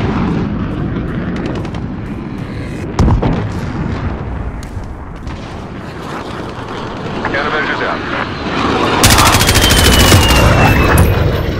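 Gunfire in Call of Duty: Modern Warfare Domination mode, bursts of rifle and machine-gun shots crackling over a dense battlefield din with aircraft drone, a sharp burst near the end, and radio voices talking over it.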